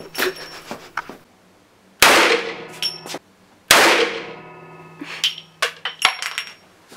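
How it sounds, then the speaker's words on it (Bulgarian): Two loud Desert Eagle pistol shots sound inside a shooting booth, and ejected brass shell casings rattle and ring against the booth roof with scattered bright metallic clinks and clangs between them. "изкачаха гилзите на Desert Eagle нагоре, те рикошираха в покрива на кабинката и се удряха право в челото ми"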